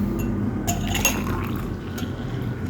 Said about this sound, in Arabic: واملى الكوبايه كده ميه سخنه واقلبها